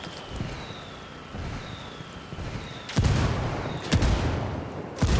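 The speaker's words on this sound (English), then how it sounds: "I'm calling for indirect fire." Called-in artillery barrage in the video game Ghost Recon Wildlands: distant rumbling blasts build, then two heavy explosions land around three and four seconds, followed by a further crack and lingering rumble.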